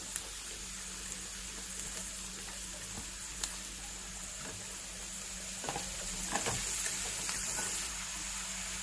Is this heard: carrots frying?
yes